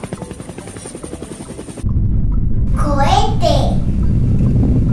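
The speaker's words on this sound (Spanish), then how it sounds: "helicóptero" A rhythmic helicopter rotor chop gives way to a loud steady engine rumble, while a voice speaks over it.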